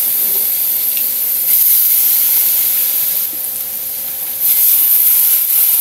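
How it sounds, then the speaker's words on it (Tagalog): Pork frying in a kawali for adobo gives a loud, steady sizzling hiss that swells and dips slightly, with no one talking. "Tapos dito sa kawali, uunahin ko yung pork."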